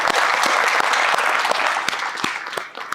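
An audience at a student meetup with SSC CGL toppers in Delhi bursts into dense, steady applause. The clapping is close and fills the whole moment, with a few sharper individual claps, before fading at the end.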